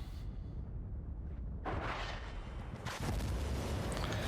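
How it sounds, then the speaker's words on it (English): Incoming fire in an Apache helicopter combat game, tank rounds and artillery from long range, rumbling as a dense, continuous barrage that swells louder partway through and again near the end, with no talking. "Got a lot of fire on us."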